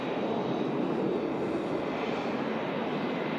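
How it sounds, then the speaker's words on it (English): An EasyJet A320neo airliner passing at Manchester Airport gives a steady, broad engine roar that holds even throughout, fairly distant with no voices. "EasyJet Neo passing in front of us out to Hurghada."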